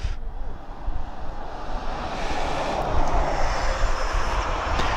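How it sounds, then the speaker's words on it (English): A Ryanair airliner taxiing at East Midlands Airport during an airshow, its steady broadband jet engine rumble and whine holding close and loud throughout with wind noise over the microphone. "So our Ryanair is actually taxiing now."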